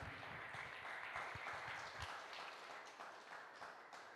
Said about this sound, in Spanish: Vamos, regala ese fuerte aplauso al Señor.